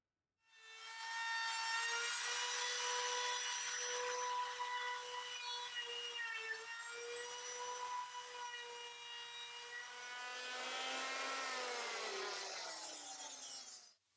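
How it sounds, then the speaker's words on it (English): A saw cuts scarfs and nibs into wooden deck planks, giving a steady, close, loud whining drone that holds for over ten seconds before dipping in pitch and stopping, with no voices. "While the scarfs and nibs are being cut, the previous two runs are being installed."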